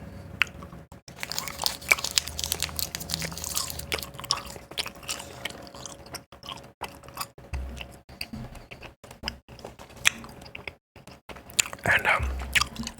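Chewing gum worked in the mouth close to the mic during a quiet drawing session, giving soft irregular wet clicks and smacks that repeat throughout, with faint pencil and paper handling sounds.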